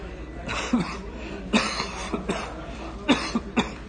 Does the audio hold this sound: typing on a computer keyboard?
no